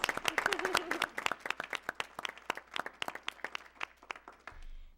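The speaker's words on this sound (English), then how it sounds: "If we could give Mrs. Acosta a round of applause." Audience applause at a school board meeting: a roomful of people clapping steadily for several seconds, moderately loud and nearby, thinning out to scattered claps at the end.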